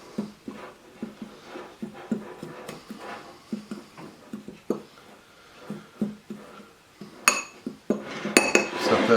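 Utensil scraping and clinking in a dish while ranch dressing mix, breadcrumbs and Parmesan cheese are blended together, a steady series of close, soft knocks and scrapes, ending in a louder burst of rattling.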